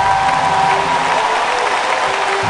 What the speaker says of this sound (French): S'il vous plaît, applaudissez pour Sophia Clément.